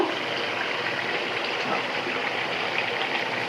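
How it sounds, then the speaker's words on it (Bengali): Hot water pours into a pot of chicken curry cooking with bottle gourd, a loud continuous gushing splash that holds steady from start to finish. "এখন আমি ঝোলের জন্য পরিমাণ মতো গরম পানি দিয়ে দেব।"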